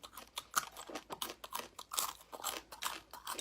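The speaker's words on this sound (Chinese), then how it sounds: "这个是雨林蝎，嘎嘣脆。" A rainforest scorpion crunches loudly between the teeth in bursts of sharp, brittle cracks, one chewing stroke after another, up close with no talking.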